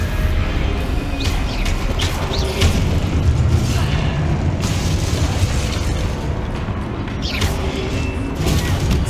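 Stupefy spells cast again and again in Hogwarts Legacy, a dense run of booming magical blasts and bursts that fill the scene with steady, loud rumbling and repeated sharp impacts.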